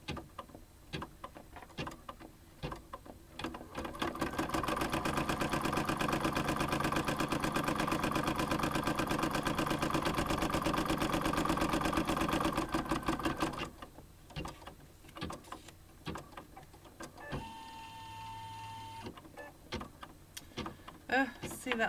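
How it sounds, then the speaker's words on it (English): An embroidery machine stitching placement lines for a reverse appliqué Valentine's Day treat bag runs in a steady, rapid mechanical chatter for about nine seconds, with quieter stop-start stitching and some talk around it. "the first thing that it's going to stitch are the placement lines"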